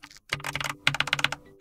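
Keys clatter on a Keychron K8 mechanical keyboard in a quick irregular burst, then a second faster run of hollow, close clicks, a short pause separating them.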